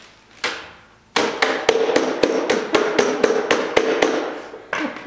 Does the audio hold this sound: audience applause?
no